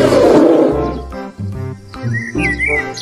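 Toy bear giving an electronic roar over a steady synthetic tone, followed by short chirpy bird-like calls, loud and close, with no talking.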